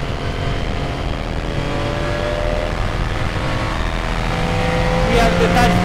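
A very loud race car engine drones steadily while driving on a track, a continuous close rumble with slight rises in pitch near the end.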